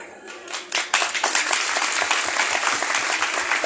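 A crowd at a speech gathering in Nagpur bursts into sustained clapping, a dense wall of many hands building quickly and holding steady throughout.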